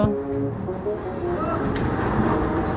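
Steady, dense heavy rainfall roars throughout, a continuous wash of drops with faint background tones; no voices stand out.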